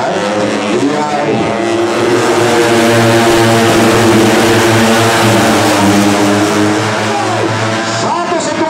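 Yamaha racing motorcycles scream around the Sentul circuit during a OnePrix race, their engines holding a loud, sustained high-revving whine with shifting pitch. A commentator talks over the racket throughout.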